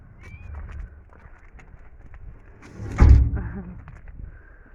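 Faint horse sounds in a quiet outdoor space at a horse farm, with a sharp thumping knock near the middle that fades out.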